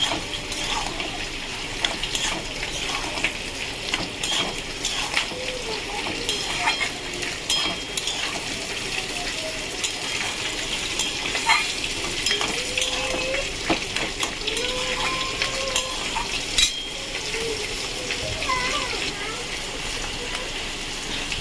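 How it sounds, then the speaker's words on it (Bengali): Prawns and green chillies fry with snake gourd and other vegetables in a blackened kadai over a gas flame, giving a steady moderate sizzle with occasional stirring clinks while someone talks throughout. "আমি এর মধ্যে চিংড়ি মাছ আর কাঁচা লঙ্কা দিয়ে দিলাম, গ্যাসটা জ্বলে দিলাম।"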